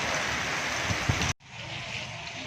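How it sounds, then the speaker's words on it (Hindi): Rain falls steadily in a village market, a dense hiss of drops that cuts out abruptly midway and then resumes, softer and more distant. "अब बारिश से लुत्फ़अंदोज़ हो रहे हैं।"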